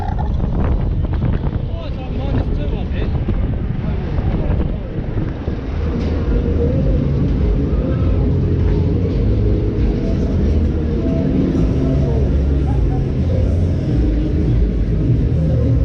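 A fairground ride runs at Hyde Park Winter Wonderland, giving a loud, continuous low rumble with heavy wind buffeting the microphone. Faint voices and a brief exclamation sound early on.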